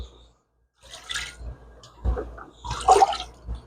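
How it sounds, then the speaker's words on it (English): A sponge filter squeezed out by hand in aquarium tank water, producing a few short bursts of squelching and splashing water separated by brief pauses, close and moderately quiet. "I just throw it in the tank water here, and just squeeze it"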